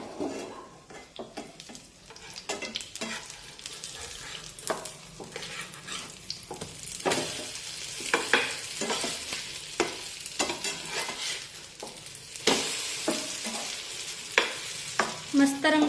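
Bread slices frying in oil in a pan over a medium flame for egg bread patties, with a steady soft sizzle broken by frequent clinks and scrapes of a spatula against the pan.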